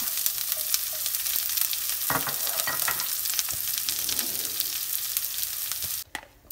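Crushed garlic and onion frying in oil with mustard seeds for a mixed leaf thoran, a continuous crackling sizzle with occasional stirring clatters that briefly drops out near the end.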